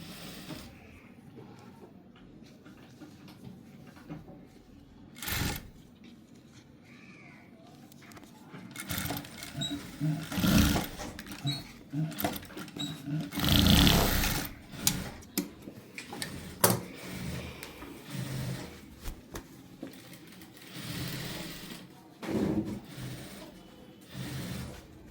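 A sewing machine stitches elastic onto a pencil-cut pant, running in bursts of whirring stitches broken by pauses and handling clicks, close by with no talk.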